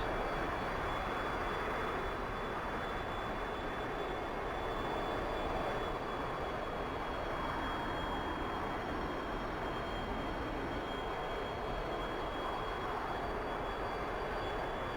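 An F-16I Sufa fighter jet taxiing in the DCS World flight simulator: a steady, loud, unbroken engine roar with a thin high whine running throughout, constant in level with no pauses.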